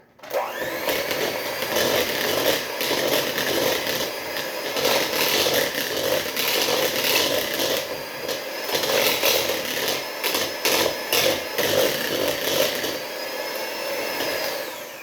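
A steady electric mixer whirs through pumpkin bread batter as the dry ingredients are worked in, a loud continuous drone with slight shifts in pitch as the beaters move, with no talking.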